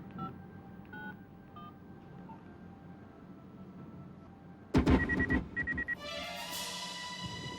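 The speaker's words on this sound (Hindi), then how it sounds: "एमटीएनएल से जो नंबर मिला है वो लगा।" Telephone keypad tones as a number is dialed on an MTNL line, a series of distinct beeps in quick succession after a quiet stretch, followed by a ringing tone.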